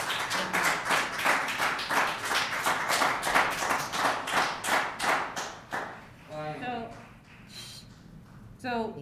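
Audience at a school district board meeting clapping in a steady burst of sharp claps for about six seconds, then fading as a voice begins talking over the last scattered claps.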